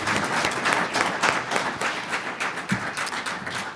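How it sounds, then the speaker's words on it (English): An audience claps for a panel at a targeted grazing workshop, a lively round of applause with distinct individual claps, close and steady throughout. "Good round of applause for our panel."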